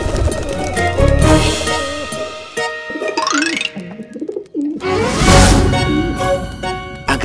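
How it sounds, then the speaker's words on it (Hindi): Pigeons coo close by in soft, throaty, rolling calls that repeat and overlap, mixed with some brief music-like tonal sounds and a short gap in the middle. "ये सारे कबूतर सारा जी के पास क्यों गए, मेरे पास क्यों नहीं है?"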